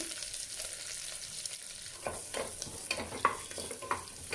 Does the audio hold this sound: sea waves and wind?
no